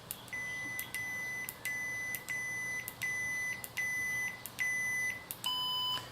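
A series of short electronic beeps from a ProffiePixel lightsaber adjusting volume repeats at a steady pace, about ten in all, with the last few shifting to a different, higher tone.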